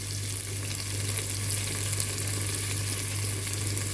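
Soya chunk pulao ingredients with mint frying in a pan give a steady, dense sizzle that holds at an even level throughout, close up, with a low constant hum beneath and no talking.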